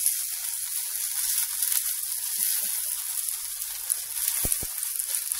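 A black bean burger patty sizzles steadily in a hot pan, a continuous bright hiss close up, with a couple of faint taps near the end.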